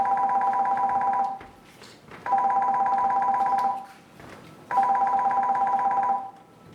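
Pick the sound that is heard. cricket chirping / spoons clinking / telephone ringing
telephone ringing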